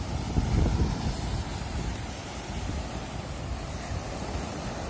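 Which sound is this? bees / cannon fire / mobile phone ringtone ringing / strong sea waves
strong sea waves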